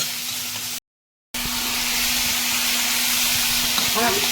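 Dried loitta fish cooked with chili paste, stirred in a frying pan: a loud, steady hiss and sizzle broken by a short gap of silence, with faint scraping toward the end.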